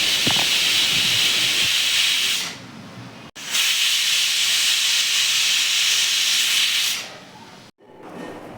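Pressure cooker whistling hard on a stove as tamarind and chana dal curry cooks, two long loud hissing bursts of steam with a short gap, then cutting off.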